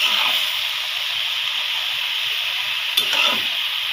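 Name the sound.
stirring and frying banana stem with garlic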